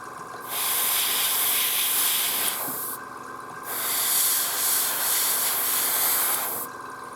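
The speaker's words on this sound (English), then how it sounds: "There goes the good old compressor kicking in." An air compressor for airbrushing model paint kicks in with a loud, steady hiss, cutting out briefly twice before running on again, alone without any talk.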